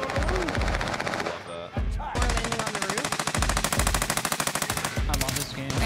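Rapid automatic gunfire from Call of Duty: Warzone rattles in dense, continuous bursts with a brief gap, while a player's voice talks over the shooting.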